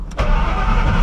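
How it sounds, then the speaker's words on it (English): A car started on E85 fuel right after a fuel tune swap: a brief starter crank, then the engine catches into a loud, steady idle rumble, close by. "we are ready to start the vehicle and then go for a ride"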